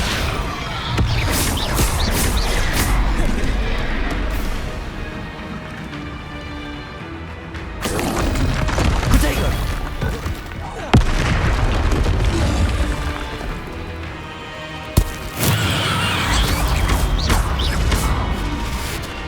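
Spell-casting effects from Hogwarts Legacy, the Incendio fire spell, boom loudly and continuously amid game music and mechanical clangs, with sharp bursts punctuating the dense, explosive action.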